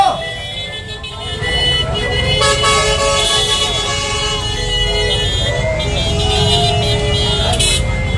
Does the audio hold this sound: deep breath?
no